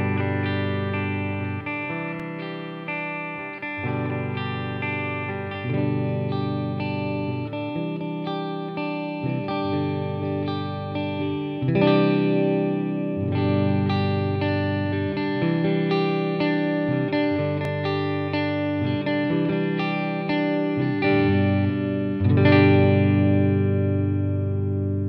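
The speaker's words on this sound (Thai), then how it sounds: "นี่เล่นไล่ตั้งแต่เสียงคลีนแล้วก็มาเสียงแตกครับไล่ทีละแก๊กเลย" A SPEAR SS series electric guitar with a snake-pattern finish plays a steady run of chords and notes, moving from a clean tone into a distorted, overdriven one, loud and alone with no talking.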